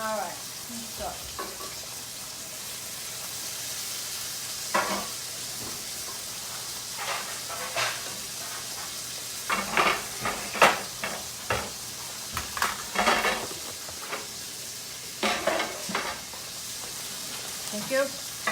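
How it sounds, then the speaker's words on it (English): Broth laced with saffron poured into a hot pan for chicken piccata, sizzling and hissing in repeated surges with stirring, under steady kitchen background. "now this is ready to start adding the hot broth with the saffron"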